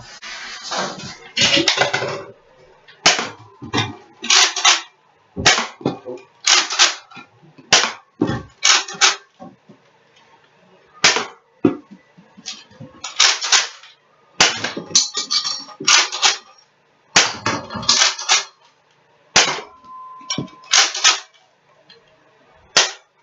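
A Nerf Rival Apollo XV-700 blaster fires foam rounds at targets, giving a loud series of sharp snapping shots, some single and some in quick pairs, separated by short pauses with clicking handling noise in between.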